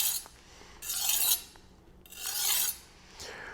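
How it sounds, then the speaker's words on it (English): Three rasping strokes of a knife edge drawn along a diamond honing rod, each a bright scraping swipe about half a second long with short pauses between, close and clear with no talking. "you can take a hooked edge and smooth it out by running along the rod"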